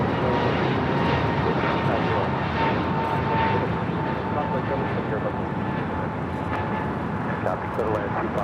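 An ANA airliner moves at LAX airport, a loud, steady broadband jet roar with a faint tonal whine, heard alone at a distance without letup.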